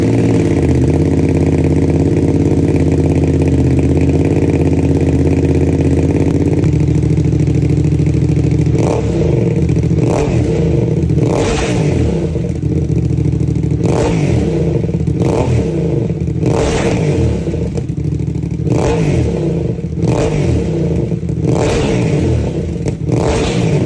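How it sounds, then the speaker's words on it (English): A motorcycle on its side stand idles with a low, steady rumble, then revs in a series of sharp, loud throttle blips spaced a second or two apart. "this engine might not sound that good when it's revving up on the side stand"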